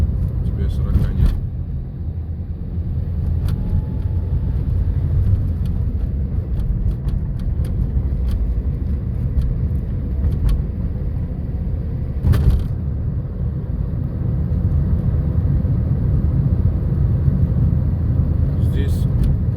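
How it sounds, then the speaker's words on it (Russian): Inside a car on a city driving lesson, a steady low engine and road rumble fills the cabin, with a few brief clicks and knocks and voices talking over it. "Разгоняемся, набираем максимально разрешенную скорость."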